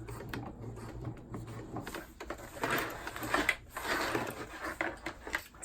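A sewing machine top stitches the elastic casing of a Happy Hippos Flex Fit cloth diaper, heard as faint, uneven mechanical whirring bursts between brief pauses, rising in the middle stretch.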